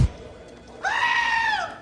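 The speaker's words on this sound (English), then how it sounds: "he hired a security goat to protect the data shed" A goat bleats once, a loud, wavering nasal cry that rises and falls over about a second, close by and heard clearly after a brief thump and a quiet pause.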